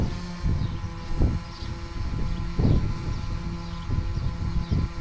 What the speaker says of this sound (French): Ah, puis j'ai du vent en plus.